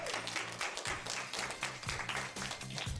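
Applause from a small group of young women at a modelling competition, a few seconds of steady clapping mixed with background music.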